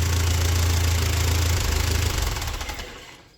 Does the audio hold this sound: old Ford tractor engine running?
yes